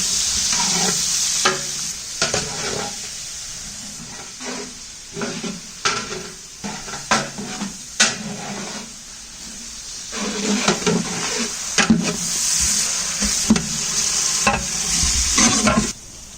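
Onion and cumin fry in refined oil with a close, loud sizzle, broken by repeated scraping stirs of a spatula against the pan in an irregular rhythm, no voices.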